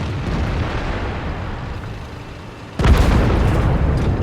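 A single sharp tank gun blast from a tank video game, a sudden loud boom that cuts through a steady low rumble of engine and battle noise and leaves a broad roaring tail.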